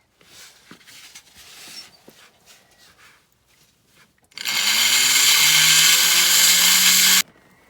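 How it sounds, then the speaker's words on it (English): A rotary burr grinds through a fracture in an agate, a loud, steady high-pitched whine lasting about three seconds after quieter handling noises, then cutting off abruptly. "So I'm just going to go ahead and cut through the fracture."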